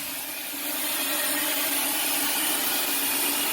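A Timesaver sanding machine runs steadily at full power, giving a loud, even broadband rushing whir with a hissy abrasive texture that swells slightly in the first half second and then holds constant.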